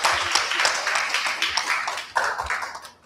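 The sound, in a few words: audience applause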